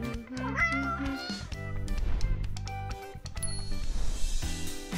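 A cat meows amid a busy, layered mix of other sounds in a miniature dollhouse play setting, the calls loud and close.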